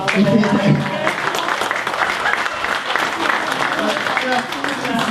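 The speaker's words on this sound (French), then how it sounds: "Je demande d'applaudir Barbara." A gala audience at a launch evening for the Year of Morocco in Canada applauds Barbara, dense sustained clapping from a large crowd with a voice speaking over it at the start.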